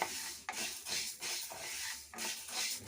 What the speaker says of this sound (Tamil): வெந்தயத்தை லைட்டாக வறுத்துப்போம்.